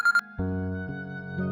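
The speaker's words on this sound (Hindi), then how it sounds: "ये जरूर जुनैद का फोन होगा, सब्र नहीं आ रहा होगा ना इसे।" A telephone ringtone rings in a domestic drama scene, a sustained melodic electronic tone that starts after a brief higher chime and repeats its pattern at steady loudness, with no talk over it.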